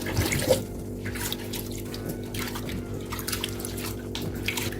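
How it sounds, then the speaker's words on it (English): Steady running water splashes over rice in a bowl, a continuous close wash with slight swishing, no voices. "we'll wash this till the water runs clear"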